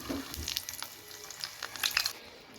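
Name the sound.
olives added to hot oil with five-spice, sizzling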